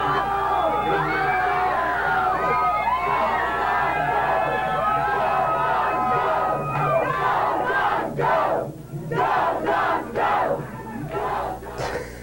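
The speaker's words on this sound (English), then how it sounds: "Let's hear a cheer for the Bulldogs." A stadium crowd of football fans roars and cheers for the Bulldogs at a bowl game, a loud sustained mass of shouting and whooping that pulses in bursts toward the end.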